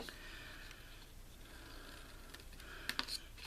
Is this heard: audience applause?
no